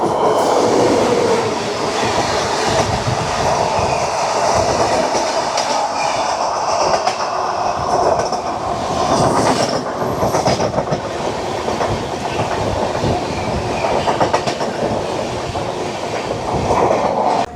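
The Howrah–Chennai Mail express train runs at speed, a loud continuous rumble with rapid rhythmic clickety-clack of wheels over rail joints and occasional metallic rattles from the carriages, heard close throughout.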